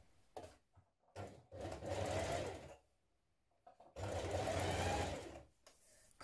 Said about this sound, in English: So let's stitch that now.